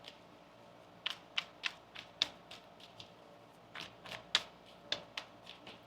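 Tarot cards are shuffled in quick, faint riffling snaps and flicks that come in two clusters, close by and alone with no talk.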